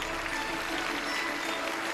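A studio audience claps to welcome a guest lecturer, the dean of Peking University's School of Chinese as a Second Language, a dense, continuous round of applause throughout with no distinct voices.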